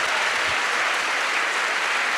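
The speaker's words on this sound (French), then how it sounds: "J'aimerais juste qu'on les applaudisse une dernière fois." Audience applause after a panel on drag and voguing culture, a continuous, even wash of many hands clapping close and loud for the whole short stretch.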